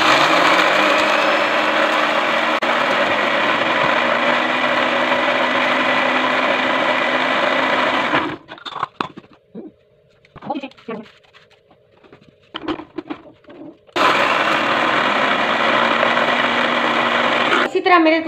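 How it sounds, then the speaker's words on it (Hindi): An electric grinder whirs steadily as it grinds chillies, a loud continuous motor hum that stops midway, leaving a few clatters and light handling noises before the grinder starts up again near the end. "अब मैं अपनी मिर्चें ग्राइंड कर रही हूँ"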